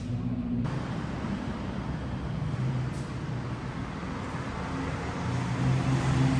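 A Hyundai Terracan four-wheel drive creeping into a garage, its engine a low steady idle rumble, fairly quiet and close, with a brief clunk near the start.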